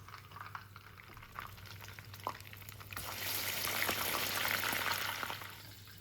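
Red wine torrijas fry in hot oil with a soft, steady bubbling sizzle that grows louder and fuller midway, close and continuous with occasional faint clicks.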